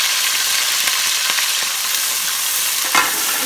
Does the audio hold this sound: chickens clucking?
no